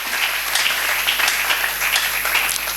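A church congregation applauds in a steady, dense wash of clapping from many hands, continuous and fairly loud across the whole stretch, with no speech over it.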